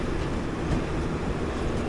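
The 12126 Pragati Express runs on the Pune to Mumbai CSMT line near the Lonavala ghat, heard from inside its air-conditioned Vistadome tourist coach as a continuous low rumble with a constant, even roar.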